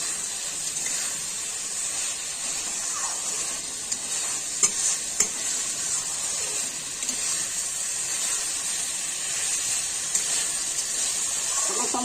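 Spiced potatoes stir-fried in a pan for an egg omelette curry, giving a steady close sizzle with scraping and stirring of a spatula throughout, no voices.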